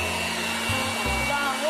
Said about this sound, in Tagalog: Lakas yung vacuum, no?